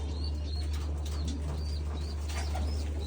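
Pigeons being fed give soft repeated coos and a few chirps, with brief wing flutters, over a steady low hum of background noise.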